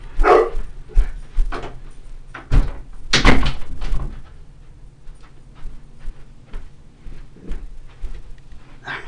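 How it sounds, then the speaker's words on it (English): A door is shut indoors in a room: a few sharp wooden thumps and knocks stand out against quiet room noise, with scattered softer bumps afterward and no speech. "Let me close the door."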